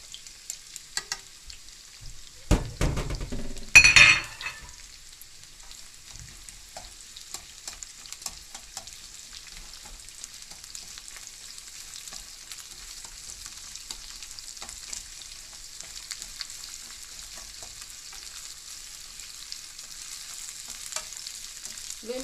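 Sliced onions frying for homemade yakisoba, a soft steady sizzle in the pan with a brief louder burst of stirring near the start, then a faint continuous crackle with no talking.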